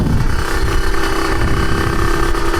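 A Kawasaki Serpico motorcycle engine runs outdoors, loud and close, with a steady throbbing low rumble and mechanical clatter throughout, no voices over it.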